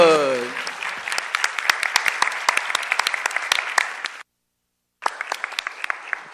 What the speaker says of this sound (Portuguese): E agora os aplausos!